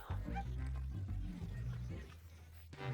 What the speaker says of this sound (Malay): Dan apa ini? Anjing kita Chloe.